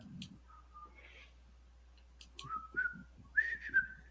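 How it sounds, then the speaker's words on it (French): A person whistling a simple tune, thin sliding notes in short phrases over a low steady hum, with a brief vocal sound at the start and a few clicks between notes. "Je vais essayer de siffloter un thème."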